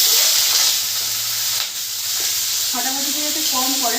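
Potatoes with dried chillies frying in white oil give a steady close sizzle throughout, with a voice talking over it.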